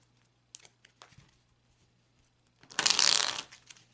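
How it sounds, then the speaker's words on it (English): A deck of tarot cards riffled in a brisk shuffle, a dense papery burst lasting under a second after a few soft taps and handling sounds, close by. "I'm going to shuffle the cards"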